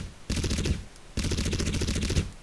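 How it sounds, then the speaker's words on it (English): Two long, loud automatic rifle bursts in the shooter game Crysis, from a high-recoil weapon: a rapid stream of shots, a brief pause, then a longer second volley, with no speech. "See how the weapon jumps and shakes when shooting?"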